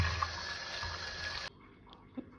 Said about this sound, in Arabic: هغسل الجمبري اهو مية جارية لغاية ما اشوف ان الميه اللي بتنزل تحت الطبق دي ميه صافيه خالص